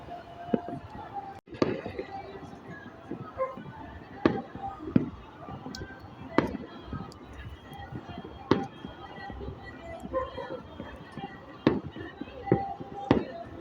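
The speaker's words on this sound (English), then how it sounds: "Fireworks, fireworks, fireworks." Fireworks burst outdoors at New Year, sharp booms and cracks going off irregularly, some close and loud, others farther off, while people talk and shout in the background.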